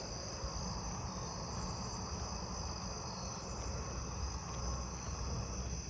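Southeastern field crickets chirp in a neighbourhood at night, a dense continuous high trilling with faint pulsed calls from other insects over low rumbling background noise.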